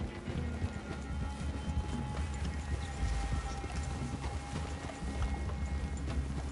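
Horse hooves clip-clop steadily over a dense, rumbling outdoor background in the video game Red Dead Redemption 2, the footfalls continuing throughout without a break.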